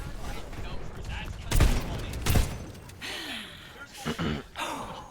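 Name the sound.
gunfire in the video game Overwatch 2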